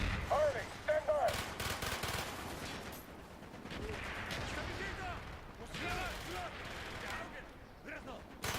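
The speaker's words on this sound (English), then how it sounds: "Use your smoke grenade to mark targets for our mortars. Firing!" Mortar blasts and gunfire crackle through a Black Ops battlefield, loud bursts clustered early and then a sustained rumble of distant firing, with voices shouting commands over the combat.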